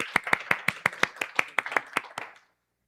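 A church youth service audience claps to welcome a speaker, a brief burst of about a dozen sharp, evenly spaced claps that quickly fades to silence.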